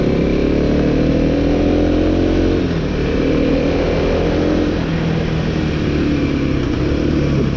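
A 2026 Kawasaki KLX300 motorcycle engine drones steadily while riding through small-town country near the Pennsylvania–New York border. The close, loud engine holds an even pitch throughout, with a slight dip in the middle and no voices.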